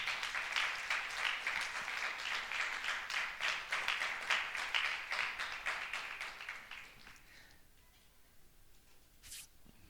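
A church congregation claps in a loud rhythmic burst of applause that fades out after about seven seconds, leaving a quiet room with a faint later sound.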